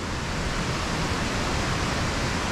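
Side tributary creek near Carrington Falls, water rushing in a steady, loud, even roar with no breaks and no voices.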